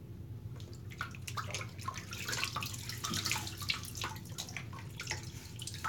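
A bathroom tap runs into a sink while hands wet the cheeks before a shave, giving a steady low rush of water with scattered splashes and drips, close and moderately quiet.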